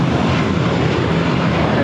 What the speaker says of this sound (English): This is American Airlines 184 taking off to JFK on the A321.